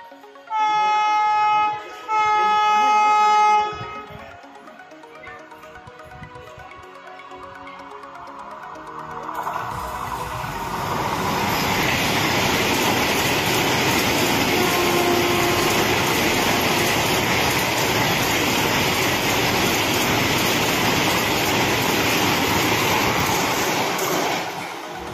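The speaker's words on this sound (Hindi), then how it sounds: "वंदे भारत एक्सप्रेस। इस ट्रेन की maximum speed 180 kilometre per hour है।" An Indian Railways Vande Bharat Express, with a 180 km/h top speed, rushes past at speed, opening with a horn blast before a loud, sustained roar of the passing train.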